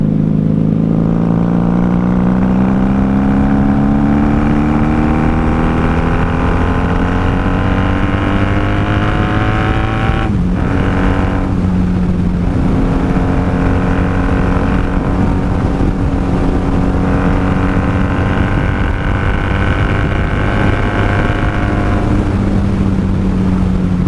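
A 1994 Honda Magna VF750C motorcycle cruising on the road, its engine a loud, continuous drone with rising and falling harmonic pitch as it shifts and accelerates, plus wind rush, no voices.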